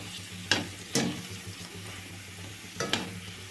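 Pani puri puris frying in hot oil at home, a low steady bubbling with a few sharp crackling bursts near the start and again toward the end. No voices.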